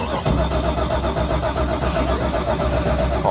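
A mud-racing car engine cranks and strains to catch, a loud, close, rhythmic churning with rising whine, without quite settling into a smooth idle.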